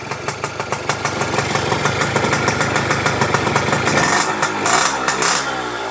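A Kawasaki KH110 two-stroke motorcycle idles loud and close with a fast, even, crackling pulse that rises slightly toward the end.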